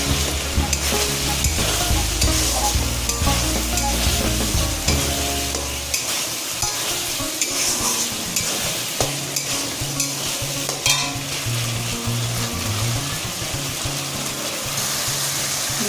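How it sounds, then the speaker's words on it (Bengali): Spice masala and chopped tomato stir-fry in a pan for a jackfruit curry, a loud, steady sizzle with continuous scraping and stirring close by, the frying tone shifting partway through; no one speaks. "মশলাটা পরে আমি টমেটো দিয়ে দেবো টমেটো কুচিয়ে গেছি টমেটো দিয়ে দেবো"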